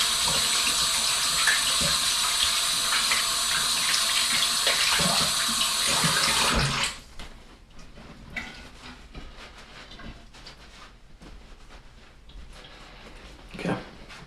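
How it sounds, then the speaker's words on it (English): Tap water runs steadily as someone rinses sticky adhesive off their hands, loud and continuous for the first half before cutting off, leaving quiet handling and small knocks in a bathroom. "My hands are sticky. Let me wash them off."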